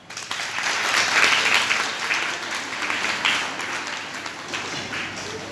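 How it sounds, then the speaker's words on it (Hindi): Audience clapping at a speech, a full, even round of applause that swells early and then slowly thins over several seconds, with no voice over it. "बताओ तो, तालियां बजाओ।"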